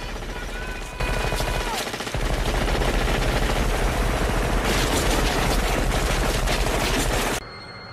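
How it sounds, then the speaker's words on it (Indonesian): Rapid bursts of gunfire, sustained automatic fire roaring loudly for several seconds, then cutting off abruptly. "Mereka menembak membabi buta ke segala arah"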